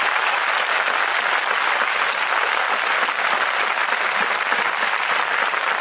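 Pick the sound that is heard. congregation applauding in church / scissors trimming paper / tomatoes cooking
congregation applauding in church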